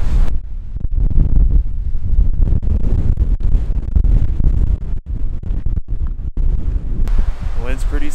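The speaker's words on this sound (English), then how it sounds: "Wind's pretty psycho up here." Strong gusting wind buffets the microphone on Loveland Pass in the Colorado mountains, a loud continuous roar with surging bursts, and a voice is briefly heard near the end.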